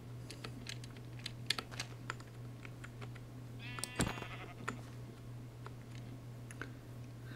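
A single sheep bleats once in the video game Minecraft, a short wavering cry standing out over rapid keyboard typing clicks and a steady low hum.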